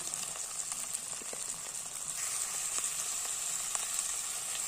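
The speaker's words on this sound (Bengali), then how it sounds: "মশলাগুলো একসাথে ভেজে নিয়ে যাবো" Spices with tomato and ginger frying in a pan, a steady close hiss of sizzling oil with faint occasional clicks of stirring, continuous and even throughout, no voices.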